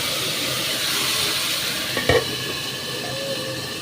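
A paste of onion, garlic, tomato and green chilli fries in a pan with a steady, fairly loud sizzle, broken midway by a short clatter of stirring against the pan.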